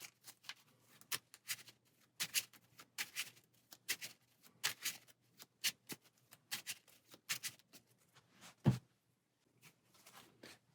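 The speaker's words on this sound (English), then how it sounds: "Then these 3 cards will get shuffled in over here." Playing cards are shuffled during a Marvel Champions card game, giving quiet, close, papery riffles and taps in uneven bursts.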